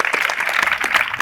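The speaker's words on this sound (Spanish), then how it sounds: "Un aplauso para Fernando Díaz Villalobos." Brief burst of crowd applause for a speaker at a Hispanidad event in Cartagena, dense steady clapping close by.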